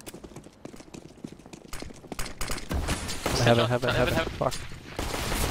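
Rapid Glock pistol shots in a Counter-Strike match on the Cache map, sharp bursts of close gunfire mixed with in-game effects while a player talks over them.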